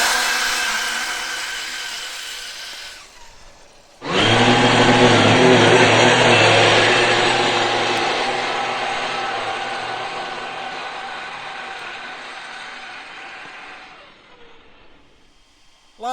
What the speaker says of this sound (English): full throttle launch